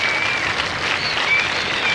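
Cricket crowd at a one-day match in Hobart applauding generously, a continuous broad patter of clapping from a large gathering with no clear voices above it.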